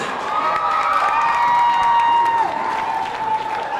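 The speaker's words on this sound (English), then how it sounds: "Give them a round of applause" Students at Newham College applaud and cheer during a visit by Usher, loud sustained clapping with excited shouts and squeals rising from the crowd.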